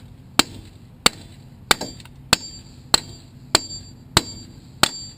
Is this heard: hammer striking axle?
yes